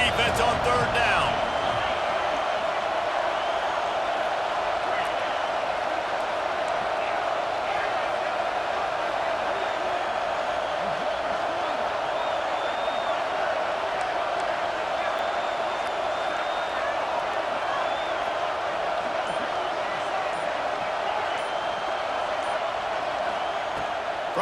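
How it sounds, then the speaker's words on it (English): A football stadium crowd roars steadily as the defense lines up on third down, a dense, loud wash of cheering that holds for the whole stretch with faint scattered thumps in it. "Decibels rising as the crowd gets behind this defense on third down."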